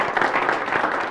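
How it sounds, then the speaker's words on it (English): Audience applause breaks out at a panel discussion, a dense, steady patter of many hands clapping together for just over a second. "A round of applause for my friend over here."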